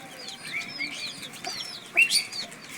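Native chicken chicks in a pen at a small farm in Ghior, Manikganj, giving high, thin peeps and chirps in quick, scattered bursts, one sharper call standing out near the end, with no talking.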